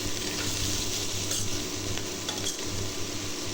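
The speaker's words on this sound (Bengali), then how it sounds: "এবার এগুলা ভালোভাবে মিশিয়ে দিলাম" A prawn and onion fry is stirred after salt and turmeric go in, a close, busy sizzle mixed with spoon scraping and light clatter against the pan, with no voices.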